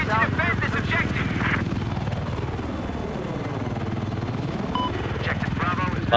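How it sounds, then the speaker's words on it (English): A helicopter in the video game Battlefield 4 thrums with a sweeping rotor and engine tone that rises, dips and swells again, heard under voices speaking over the game. "Enemy helicopter has been spotted."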